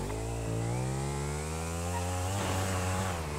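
Motorcycle engine in GTA Online giving a close, loud buzzing whine that rises in pitch as it revs, dips briefly near the middle, then climbs again, with no one talking.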